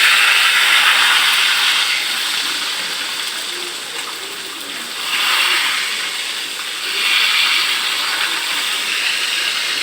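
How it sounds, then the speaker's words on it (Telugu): Fish pieces frying in hot oil give off a loud, steady sizzle close up, with the hiss swelling in two waves as the pieces are turned and no talking. "ఒక పక్క ఫ్రై అయిపోయినాక రెండో పక్క అనేది తిప్పేసేసుకున్నాం"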